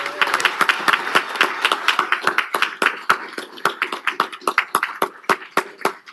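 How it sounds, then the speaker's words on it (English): An audience at a city council meeting in Elk Grove gives a round of applause, a brisk burst of clapping hands that carries on for several seconds and thins out toward the end. "Let's give them another round of applause."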